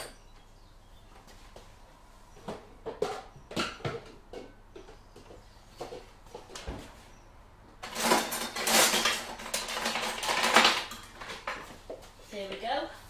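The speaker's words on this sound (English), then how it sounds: "get my cream bowl out that I put my dirty spatula in" Dishes and utensils clatter as a cream bowl holding a dirty spatula is moved while a kitchen is tidied during vegan country cake baking; scattered knocks and clinks build into a louder, dense burst of rattling near the end.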